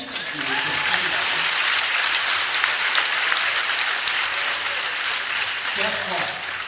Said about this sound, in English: Give Douglas educators a round of applause.